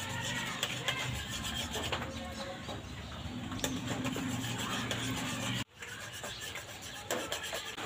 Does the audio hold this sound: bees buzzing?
no